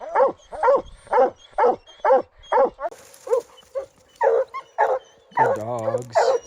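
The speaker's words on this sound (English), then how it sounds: "I'm just calling the dogs off." Hunting dogs bark at a treed animal in rhythmic, evenly spaced close barks, later joined by higher whines and a voice speaking over them.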